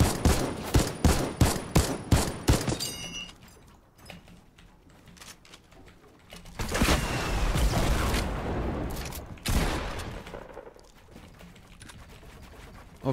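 Rapid bursts of gunfire from the Fortnite video game, a fast string of loud shots at the start, then a quieter lull before heavier blasts and rumbling return, with no talking over it.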